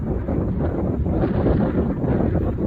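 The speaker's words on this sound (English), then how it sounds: "It is pretty windy up here." Strong wind on an exposed hilltop near the Blue Ridge Parkway and the Appalachian Trail buffets the microphone in loud, continuous gusts that roar and flutter, with no one speaking.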